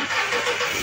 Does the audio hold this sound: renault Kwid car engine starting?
yes